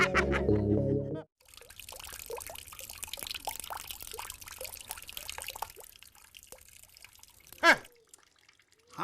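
Tap water trickles and drips intermittently into a container, faint and uneven, with a short louder splash near the end after a brief noisy burst at the start.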